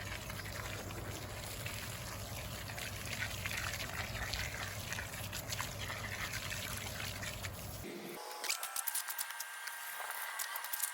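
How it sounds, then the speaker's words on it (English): Water trickles and pours steadily into masonry mortar mix for patching a rock porch, a continuous close stream that stops abruptly near the end, leaving light scraping and rustling. "Now you just want to add a little bit of water in there."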